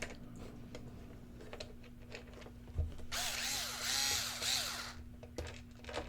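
A power driver runs screws down into a Sharper Image fiber optic UFO lamp: a steady whirring burst of a couple of seconds, preceded by scattered light clicks and handling taps, close and fairly quiet.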